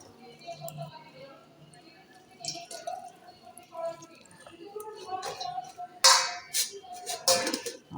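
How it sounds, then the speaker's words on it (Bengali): Boiled cabbage leaves squeezed by hand to press out water, giving soft wet squishes and drips close by, with a voice talking over them. "এভাবে জল টিপে টিপে আমি তুলে নিচ্ছি"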